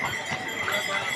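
Horses carry riders along the Kedarnath trail in light rain, with hooves clip-clopping in a quick, uneven rhythm over a short stretch under a noisy outdoor background.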